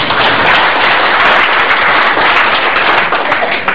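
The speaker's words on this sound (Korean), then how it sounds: "그럼 박수 한번 쳐주세요." Loud, dense applause from a large crowd, sustained and even throughout.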